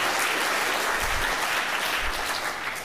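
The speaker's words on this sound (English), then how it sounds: "Please give applause to those people" At a GNOME Foundation annual general meeting, a short burst of audience applause fills the room as dense, even clapping before tapering off.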